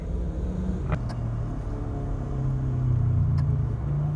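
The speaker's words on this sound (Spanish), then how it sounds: "Miren el motorcito ahí, un 70." A small 70cc motorcycle engine runs with a low, continuous rumble at moderate distance, slightly rising near the end, with no talking.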